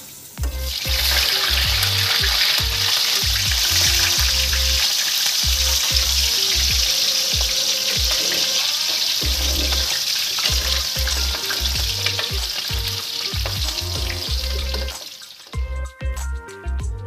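Potatoes for chicken biryani fry in oil in a pan with a loud, continuous close sizzle, and a rhythmic tapping of a stirring utensil runs beneath it until the sizzle fades near the end.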